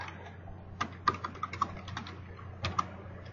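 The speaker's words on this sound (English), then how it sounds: "And I'm going to type my words." Words typed on a computer keyboard, a short burst of close, uneven key clicks over a faint steady hum.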